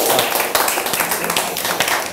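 Dense, continuous hand clapping from a group during a casual live art chat show, close and loud with sharp claps throughout and some voices mixed in.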